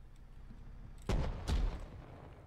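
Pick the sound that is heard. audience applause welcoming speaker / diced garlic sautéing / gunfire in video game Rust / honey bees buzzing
gunfire in video game Rust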